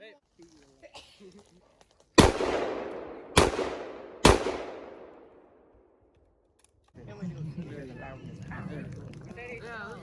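Three loud, sharp gunshots ring out at a camp off the grid, spaced about a second apart, each trailing a long echoing decay. Voices then talk close by.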